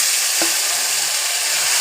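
Taro greens hit hot oil seasoned with panch phoron and set off a loud, steady hiss of sizzling, with one brief clink near the start and no talk.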